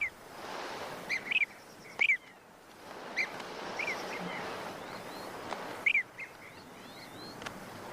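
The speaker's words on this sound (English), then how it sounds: "Blue-cheeked bee-eaters, one of our most exotic birds." Short, sharp blue-cheeked bee-eater calls ring out in scattered bursts over a steady outdoor wash of background noise in a Russian desert, some calls doubled, fairly close.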